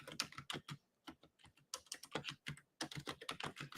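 Close, crisp typing on a shaky, unreliable computer keyboard. Fast runs of keystrokes click in clusters, broken by brief pauses, with no voices.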